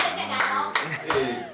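Hands clap in a few sharp, bright bursts at a lively studio show, close and loud, mixed with a crowd's murmur and speech.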